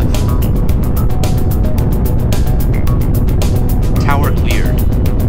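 A rocket engine roars at launch in the mobile game Space Agency, giving a loud, steady rumble with rapid rhythmic crackle that holds throughout, while a voice speaks briefly under it.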